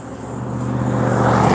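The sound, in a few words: loud truck engine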